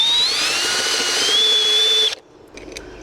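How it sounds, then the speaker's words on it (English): A high-pitched drill whines steadily through metal for about two seconds, enlarging a slightly too-small bolt hole during a muffler installation, then cuts off abruptly, leaving quiet with a couple of faint clicks. "so he's gonna drill that out."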